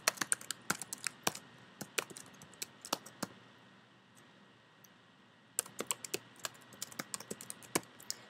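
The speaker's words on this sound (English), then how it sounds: "So I'll just type a couple really quickly here." Quick bursts of computer keyboard typing, crisp close key clicks in rapid runs, pausing briefly in the middle before resuming.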